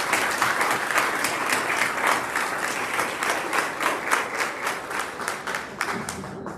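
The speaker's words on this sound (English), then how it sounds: "One more round of applause." A round of audience applause at a dinner event fills the room, steady and fairly loud dense clapping with a slightly rhythmic pulse, tapering off just before the end.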